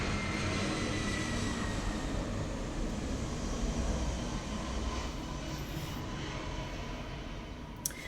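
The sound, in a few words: airplane flying overhead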